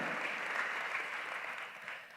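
A church congregation claps together in a large hall, a dense, even wash of applause at moderate distance that holds steady and then tapers slightly, with no voices over it.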